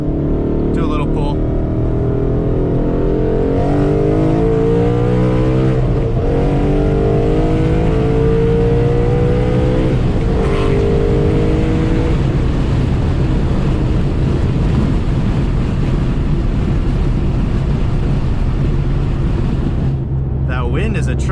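A Ford Mustang GT accelerating hard on a side road, heard from inside the car with the window cracked, the engine note climbing through a long pull under heavy wind rush.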